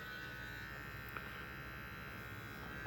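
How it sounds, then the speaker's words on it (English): An electric hair clipper angled upward while trimming a mustache, producing a faint, steady buzzing hum that continues evenly, with a small click partway through. "one thing that I'm doing is I'm angling the clipper"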